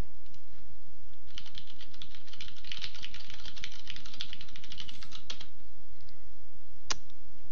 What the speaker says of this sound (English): Typing and clicking, some of my favorite things to do.